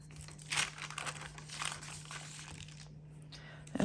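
Scissors trim a sheet of blue planner stickers close by, giving soft crinkly snips and rustling paper across the clip, with a brief louder crackle at the end.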